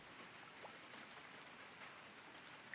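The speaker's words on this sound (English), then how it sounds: "I could hear the thunder roar in the distance. The rain began to pick up." Steady rain from a visual novel game, an even hiss of drops falling on a surface throughout, moderately quiet and unbroken, with no talking.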